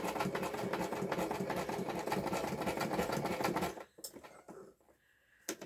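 An old sewing machine stitching paper runs in a fast, steady mechanical chatter, then stops abruptly, leaving a few quiet clicks and handling sounds.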